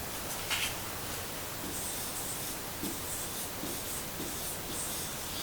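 Marker or pen scratching across a writing board during an English lesson, a faint continuous rubbing with short strokes, close and alone.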